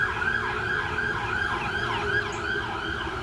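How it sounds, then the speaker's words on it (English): An ambulance siren on a road, loud and close, its repeating wail cycling steadily about once every half second over low traffic rumble, with no talk. "Just remember, this is the ambulance."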